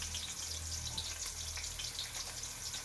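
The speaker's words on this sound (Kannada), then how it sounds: "ಒಗ್ಗರಣೆಗೆ ಸ್ವಲ್ಪ ಆನಿಯನ್ ಹಾಕ್ಕೊತೀನಿ" Onion frying in hot oil for a tempering in a home kitchen, a steady, soft hiss and crackle that runs continuously at low level with no talking.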